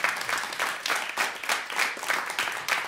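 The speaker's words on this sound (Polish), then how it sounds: "Wielkie brawa." Audience applause closing a jazz concert, a dense, steady wash of many hands clapping, fairly close and continuous with gentle swells throughout.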